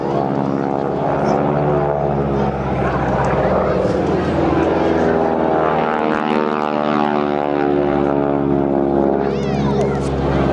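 Propeller aircraft of the Breitling wingwalking display at a Clacton-on-Sea air show, a loud, steady engine drone with a pulsing propeller tone that holds throughout, with a commentator talking over it.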